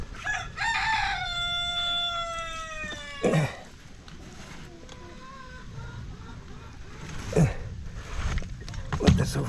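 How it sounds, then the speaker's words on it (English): Backyard chickens being moved into a chicken tractor on grass: a rooster crows loudly near the start, with scattered clucks and sharp calls later over faint outdoor background noise. "Then we get some chickens right here."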